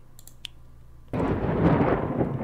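A lightning strike in the WorldBox video game: after a few faint clicks, a sudden loud rumbling crash like thunder that keeps rolling to the end.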